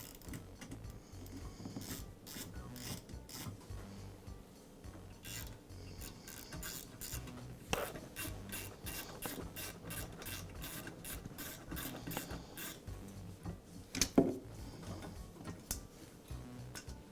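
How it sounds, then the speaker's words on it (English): A ratchet and socket loosening the grounding wire fasteners on a DeWALT air compressor during a pressure switch replacement: rapid bursts of soft clicking, quiet and close, in several runs with brief pauses and a couple of louder knocks. "for that I can use a socket."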